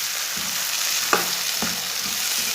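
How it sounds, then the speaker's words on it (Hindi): Chopped, peeled tomatoes with green chillies sauté in a pan for an egg curry, a steady soft sizzle broken by a few scraping stirs of a spoon, close and with no talk. "2-3 मिनट के लिए भून लेना ताकि हमारे टमाटर अच्छी तरह पक जाएं।"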